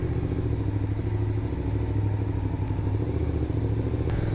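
An old Honda motorcycle passing on a ride in Saint-Joseph, Réunion, heard as a continuous engine rumble with clatter under wind noise, steady and moderately loud throughout.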